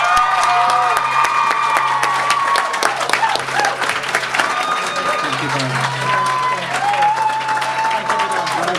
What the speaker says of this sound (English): Can we have a very, very warm round of applause